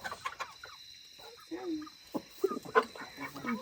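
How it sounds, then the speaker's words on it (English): Young chickens cluck and chirp in short, irregular bursts, fairly close but soft, with a few quiet pauses between calls. "Oh, they're little chickens."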